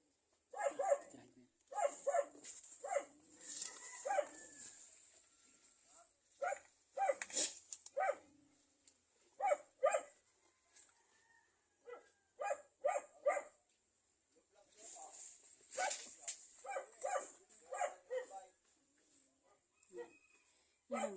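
A dog barks repeatedly in short bursts, fairly close, with people talking excitedly over and between the barks.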